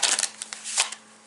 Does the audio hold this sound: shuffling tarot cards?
yes